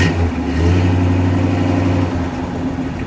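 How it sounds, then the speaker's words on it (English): A white 1959 DeSoto Adventurer with a 383 dual-quad V8 revs loudly and close, a deep rumbling engine note that swells and holds for about three seconds, with no talk over it. "Go ahead, give it a rev."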